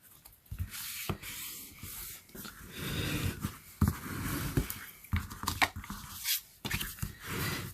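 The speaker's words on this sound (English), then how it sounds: "so all I need to do is fold and burnish it." Scored cardstock being folded and burnished by hand, close soft rubbing and scraping strokes in uneven bursts, quiet and with no talk.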